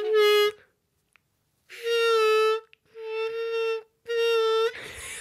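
Harmonica single notes with bends, practiced against a bending tuner app, sound as three or four separate sustained tones with short gaps between them, close and clear, ending in a breathy noise.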